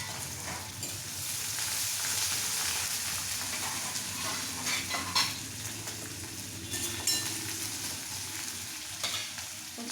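Onion and curry leaves fry in a pan with a steady, close sizzle, broken by occasional clinks and scrapes of stirring.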